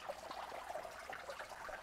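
Steady running water in a catfish hatchery tank, a continuous trickling flow with faint bubbling, even and unbroken throughout, with no talk.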